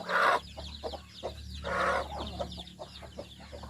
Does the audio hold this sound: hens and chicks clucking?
yes